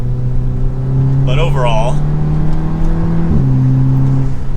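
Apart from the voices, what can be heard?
2024 Audi RS3 dual-clutch shifting in dynamic manual mode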